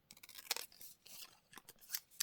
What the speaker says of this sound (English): let's use the big giant scissors for this tiny piece of ephemera.